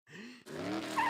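Tire squeal effect for the race car token in a Monopoly-style board video game: a short synthetic screech lasting about a second, rising into a brighter whine at the end, with no talk over it.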